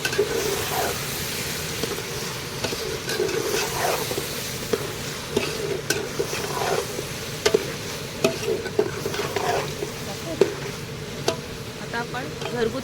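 Vegetables being stirred in a pan with garam masala and asafoetida, giving a continuous close sizzle with repeated scraping strokes of a spoon, no voices.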